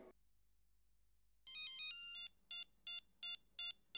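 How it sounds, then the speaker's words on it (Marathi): A mobile phone rings close by, with one sustained electronic tone followed by a run of short, evenly spaced beeps. No one speaks. "आई शपथ, आपल्याला कुणाचा फोन आला?"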